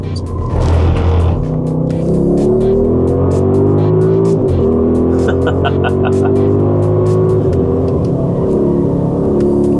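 A loud Audi RSQ8 Performance SUV engine revs and climbs steadily in pitch as it accelerates hard on a race circuit, with a brief gearshift dip partway through.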